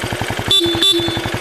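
A Benelli Imperiale 400 classic motorcycle sounds its horn in two short, loud honks in quick succession, heard over the bike's steady pulsing idle.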